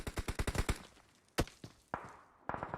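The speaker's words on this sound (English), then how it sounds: "You can hear the gunfire raining out from the hillside." Video game gunfire in PUBG Mobile: a rapid burst of shots from a hillside followed by a few single, spaced shots, crisp and fairly close, with no talking.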